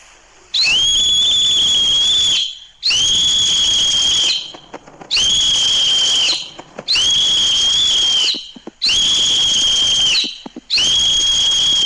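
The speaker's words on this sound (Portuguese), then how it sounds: "Eu tentei reproduzir um som com apito, com aqueles apitos que tem a bolinha dentro" A shrill pea whistle is blown in six long, loud blasts with short pauses between, its trilling tone close and piercing.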